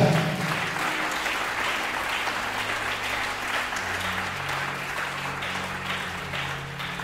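A church congregation applauds in praise, a dense, steady clapping that fills the hall for several seconds and eases slightly toward the end, with a low hum of voices underneath.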